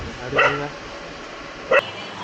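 A dog at a groom's house in Coimbatore gives two short, sharp barks about a second apart. It sounds near and moderately loud over a faint background hum, with no speech.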